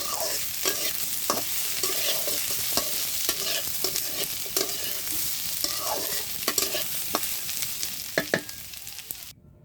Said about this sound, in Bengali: দেখুন এখানে আমার আলুগুলি এই যে ভাজা হয়ে গেছে।